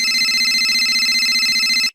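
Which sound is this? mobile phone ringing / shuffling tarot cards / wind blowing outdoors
mobile phone ringing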